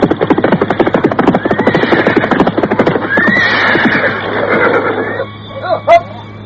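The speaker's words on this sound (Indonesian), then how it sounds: "Dan tak lama kemudian, pasukan berkuda itu pun tiba di sebuah desa." A troop of cavalry horses arrives at a village, hooves clip-clopping in a dense rapid rhythm under loud rumbling, then a horse whinnies near the end as the hoofbeats fade.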